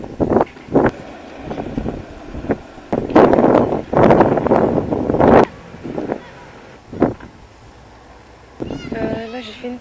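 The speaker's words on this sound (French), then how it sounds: "Vous allez rien entendre parce qu'il y a grave le vent ici" Strong wind gusts blast the microphone in loud bursts, rumbling and pausing irregularly, with a voice briefly heard near the end.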